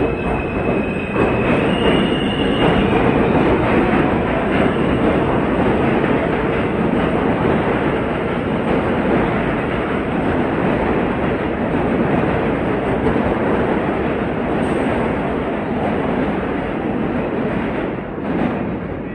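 A New York subway E train running between Jamaica and 34th Street Penn Station roars past close by, a loud, steady rumble of wheels on rails with high squealing tones threaded through it for nearly twenty seconds.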